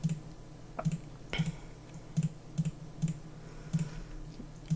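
Computer mouse clicks as After Effects colour presets are browsed, about a dozen crisp, close clicks at an uneven pace over faint room noise.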